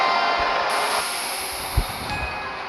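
A train crossing nearby in a train simulator game, heard as a steady broad rumble and rail noise with a few low thumps, fairly constant and moderately loud with no talk.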